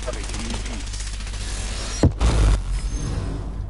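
Gunfire in the video game Apex Legends: a steady rattle of distant shots, then a couple of heavy, close impacts near the end, with a game voice speaking over it.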